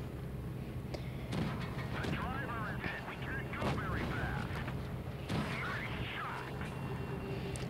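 Tank cannon shots boom out during a World of Tanks Blitz battle, with a few heavy blasts spread over steady game rumble and engine noise.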